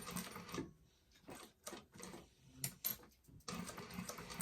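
Sewing machine top stitching leather card slot pieces for a bifold wallet, short bursts of rapid stitching separated by brief pauses, close and fairly quiet.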